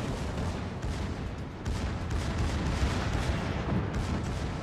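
Naval guns firing in World of Warships, the battleship Oklahoma trading shots, a dense, steady rumble of booming gunfire and blasts filling the whole stretch without pause.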